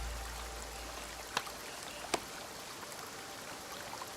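A video game character slips into water, giving a faint, steady wash of flowing water with two brief, sharper splashy clicks, quiet and alone with no talk.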